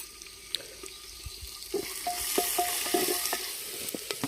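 Onions fry in a pan for paneer pulao in a village outdoor kitchen, with soft sizzling under repeated scraping and clinking stirs, close and fairly quiet.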